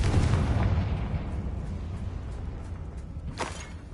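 A Confringo blasting spell in Hogwarts Legacy explodes with a deep, rumbling boom that slowly fades, followed by a second, smaller sharp burst near the end.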